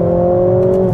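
Steady loud engine drone from a 2021 Mercedes GLA 45 S AMG accelerating in a straight line, heard from inside the cabin as a brief continuous tone with no talking.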